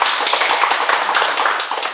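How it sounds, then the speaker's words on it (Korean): Applause from a lecture audience at a Sunday talk, a brief, close, dense burst of clapping with a few sharper taps standing out. "큰 박수 부탁드립니다"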